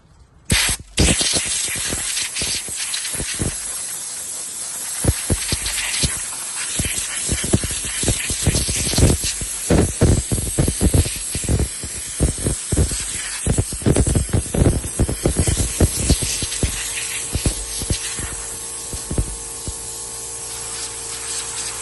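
Bursts of compressed air hiss and blast in repeated short and long pulses, close and loud, with rattling debris between blasts, blowing out the fuel pump area of a rusted 2003 Chevy Trailblazer 4.2 I6.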